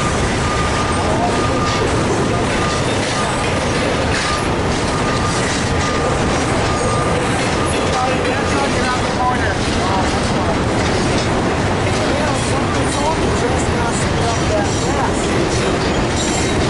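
A long freight train rumbles steadily along the tracks, a dense broadband roar with faint clacking and a thin squeal, continuous throughout.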